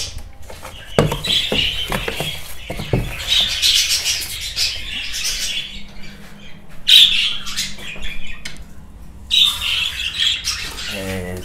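Budgerigars in an indoor breeding room chirp and squawk in bright, overlapping bursts, close and moderately loud, with scattered calls and rustling between them.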